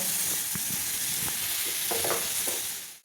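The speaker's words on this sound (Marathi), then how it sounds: "आता यात मी हा आवळा घालते हे पहा आणि आता हे सर्व मिक्स करून घ्यायचं" Amla being stirred into melting jaggery in a pan for sweet gooseberry preserve, with steady sizzling and a few scraping stirs of the spoon, close up and alone.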